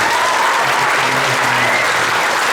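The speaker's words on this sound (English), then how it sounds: "Can we give those people a round of applause?" Audience applause for middle school honor band students at a spring band concert, a steady dense wash of clapping from a crowd.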